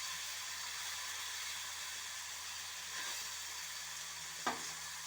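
Fish pieces frying in a pan of oil for a fish curry, a steady faint sizzle and hiss throughout, with one brief soft knock near the end.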